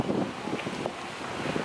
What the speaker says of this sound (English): It's like super windy out